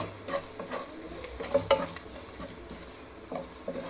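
A spoon stirs and mixes ginger garlic paste in a pan, soft scraping strokes repeating at an uneven pace over a low, faint sizzle, with no talking.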